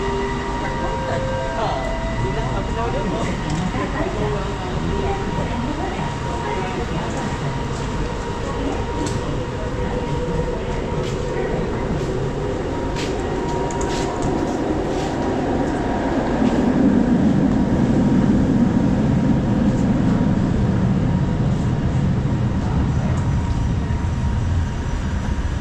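LRT light rail train at KLCC station in Kuala Lumpur, a steady rumble of the moving train with a swell of low braking or rolling noise near the end, with a voice talking over it.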